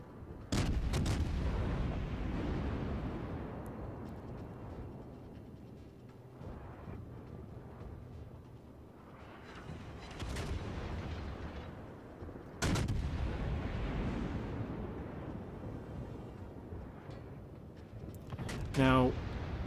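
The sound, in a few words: battleship gunfire in the video game World of Warships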